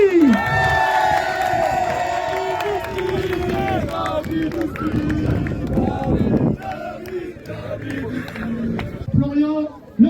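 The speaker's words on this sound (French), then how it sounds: "J'ai le droit d'applaudir David Ouspi" A crowd cheers and shouts loudly throughout at a French amateur football club celebration for USM Merville, with raised voices and whoops blending into a dense, continuous roar.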